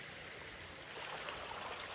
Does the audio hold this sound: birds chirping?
no